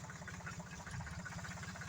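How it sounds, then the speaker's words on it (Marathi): A tractor engine runs steadily at a farm during harvest loading, its low rhythmic chugging close and continuous with no talk. "ते ट्रॅक्टर चालू आहे,"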